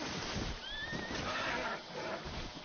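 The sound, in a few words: horse whinnying in video game Red Dead Online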